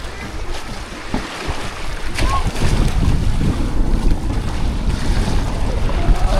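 Strong southwest monsoon wind gusts roar over the sea, buffeting the microphone loudly with waves sloshing underneath and a steady boat rumble throughout, no voices.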